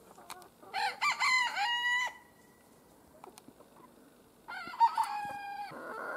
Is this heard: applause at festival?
no